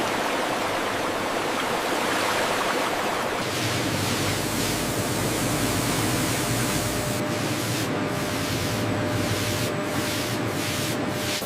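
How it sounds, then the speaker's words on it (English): High-pressure water jets spraying watermelons in a fruit processing plant, a loud continuous hissing rush that holds steady throughout, with brief dips near the end and no voices. "High-pressure water jets meticulously clean each rind, ensuring pristine quality."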